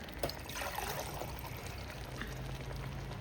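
About two liters of water pour into a pot for turkey biryani as a faint, continuous trickle and gush lasting a few seconds, with no talk.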